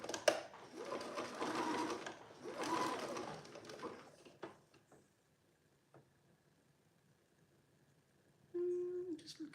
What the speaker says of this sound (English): reduce my pressure on my presser foot just to allow it to come through a bit more easily